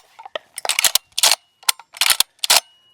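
Pardus LAX 12 shotgun firing at a range, several sharp loud reports with mechanical clatter in quick irregular bursts, close and unaccompanied by talk.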